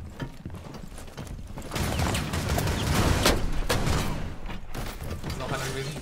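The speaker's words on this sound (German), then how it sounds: "da hat noch einer geschossen" Gunfire in the Rainbow Six Siege video game crackles in a burst of sharp shots and impacts, dense and loud mid-clip, with busy game noise around it.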